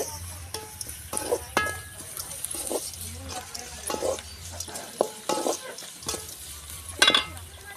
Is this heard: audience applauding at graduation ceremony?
no